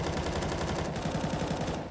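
Rapid MAG-7 shotgun blasts in a CS:GO pro match, loud and close, firing in a dense repeated burst over steady background noise, with no talk.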